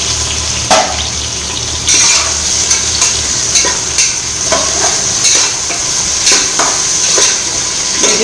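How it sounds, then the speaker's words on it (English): Tomatoes and onions frying in a pan while being stirred for brinjal rice, a steady close sizzle with periodic scraping stir strokes repeating every second or so, no voices. "Now the tomatoes have been fried well."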